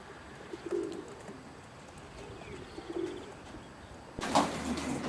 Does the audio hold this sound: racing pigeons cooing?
yes